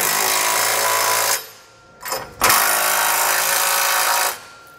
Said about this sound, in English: come back with a 3/4 inch or 19 millimeter socket and snug everything down